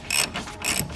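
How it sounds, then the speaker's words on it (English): Ratchet torque wrench tightening the bracket nuts of a strut tower brace on a G37, two quick bursts of loud, close clicking with a short pause between them. "I'm going to torque my bracket down."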